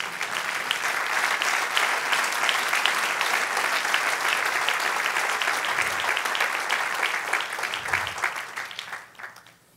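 A church congregation claps steadily and densely for nearly ten seconds, loud and sustained, trailing off at the very end.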